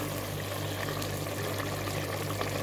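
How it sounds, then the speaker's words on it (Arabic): Hot broth is poured into a pot of simmering meat and tomato sauce for an Egyptian potato stew, giving a steady, soft liquid rush with a faint background hum throughout. "كده هنحط اللحمه بتاعتنا والشوربه"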